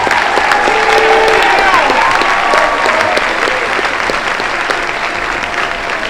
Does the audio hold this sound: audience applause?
yes